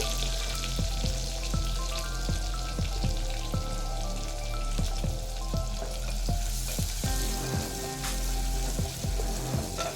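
Chopped onion with cumin frying in coconut oil for a shark dry fish curry, a steady close sizzle with crackling pops and faint raindrop-like spatter throughout, no voices.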